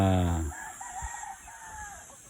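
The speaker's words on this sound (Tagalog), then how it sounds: "Isang magandang cross ng white-legged black copper marans rooster sa" A rooster, a white-legged black copper Marans crossed with a Rhode Island Red, crows once at moderate distance, a drawn-out call over a low steady background hum.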